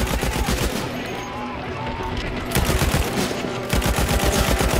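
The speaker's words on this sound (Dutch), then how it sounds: "op en neer met die mitrailleur" Rapid bursts of machine-gun fire in a war film battle scene, loud and close, with repeated volleys across the whole stretch and brief lulls between them.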